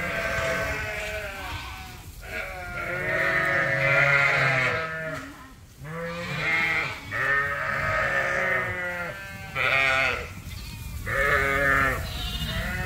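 Sheep and lambs bleat repeatedly in a small pen, several overlapping calls close by, with brief pauses between bursts.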